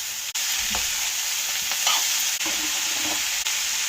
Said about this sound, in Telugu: ఈ బీన్స్ని కూడా యాడ్ చేసుకోవాలి ఈ బీన్స్తో పాటు మెంతి కూర కూడా ఫ్రై అవుతుంది